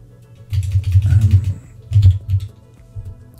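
Computer keyboard typing while setting up post-processing in the Unity editor: a short run of clustered key clicks, a pause, then a second brief burst, close and fairly loud with a low hum underneath.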